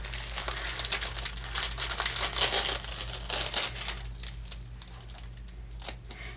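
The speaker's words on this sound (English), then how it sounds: "Pardon the sound of the crinkling." Close, loud crinkling of plastic wrapping, crackling in bursts that gradually taper off toward the end.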